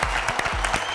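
Studio audience applauding a team member on an Armenian TV quiz show, a steady dense clapping wash with no voices over it.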